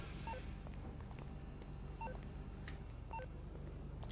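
Telephone dialing tones from a phone in a modded open-world video game, a short series of separate beeps spaced irregularly over a low, steady background hum, with no speech.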